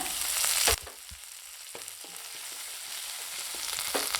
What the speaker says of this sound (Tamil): இப்போ தேங்காவை லேசாக வதக்கி விட்டாச்சு